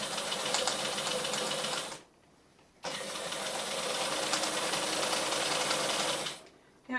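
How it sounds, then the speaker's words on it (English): Sewing machine stitching a quarter-inch seam on a fabric dog bandana, running in two long steady bursts with a short pause between, close and loud with no voices. "We back stitch to lock those stitches in place."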